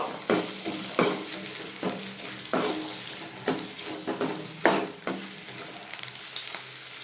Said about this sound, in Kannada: ಮತ್ತು ಅದ್ರ ಜೊತೆಗೇ ಶುಂಠಿ ಬೆಳ್ಳುಳ್ಳಿ ಸಹ ಆ್ಯಡ್ ಮಾಡ್ಕೊಬಿಡಿ ಸೊ ಈಗ ಇದನ್ನ ಕಂದು ಬಣ್ಣ ಬರೋವರೆಗೂ ಹುರ್ಕೋಬೇಕು